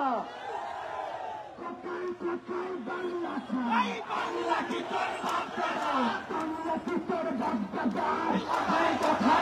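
A crowd at a Hindu torch-lit protest march in Dhaka chants slogans in unison, loud, rhythmic repeated calls with surging voices, near and continuous, with a leader's voice rising between the responses.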